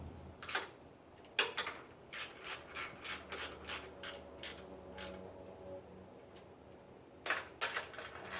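A hand ratchet tightens bolts on a salvaged Briggs & Stratton Vanguard engine, clicking in quick close bursts of short strokes, then pausing before a final few clicks, heard alone in a quiet workshop.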